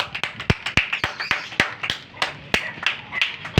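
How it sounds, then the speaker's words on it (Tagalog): Hand clapping from someone in a pigeon-flying session, a loose run of sharp claps with uneven gaps, close and fairly loud, with faint voices and outdoor background beneath. "Palakpakan mo na. Palakpak."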